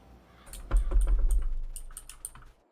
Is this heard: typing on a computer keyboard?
yes